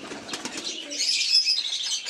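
Domestic pigeons flap their wings in a quick flurry close by during feeding in cold weather, a rapid fluttering whoosh followed by a soft, airy rustle as they settle.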